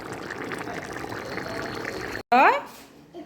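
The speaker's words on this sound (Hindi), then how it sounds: "यहाँ पर थोड़ा और उबाल आ जाए, पानी थोड़ा सूख जाए" Vegetable curry simmers in a pot of water on the stove, giving a steady bubbling hiss for about two seconds; after a brief gap comes a short, louder burst of sound.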